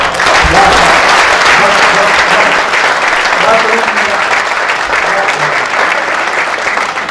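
Loud, sustained applause from a crowd at a Rajasthani comedy poetry gathering, a dense wash of clapping that holds for several seconds and then eases slightly toward the end.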